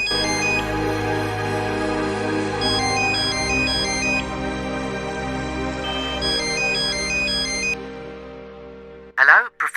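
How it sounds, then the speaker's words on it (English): Mobile phone ringtone in the Martin Mystère adventure game, a bright synthesized melody of repeating beeping tones that plays for several seconds before cutting off, followed by a brief handset click. "My mobile's ringing."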